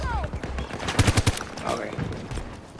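Gunfire in the video game Battlefield 2042, a quick burst of four or five loud, sharp shots near the middle, with scattered shots and battle noise around it and voices in the background.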